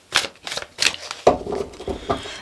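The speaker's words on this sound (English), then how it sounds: "I'm going to get a little bit more shuffling." Tarot cards riffled and shuffled in several quick bursts, crisp papery flutters close to the microphone with short pauses between them and a longer rustling run toward the end, no talking.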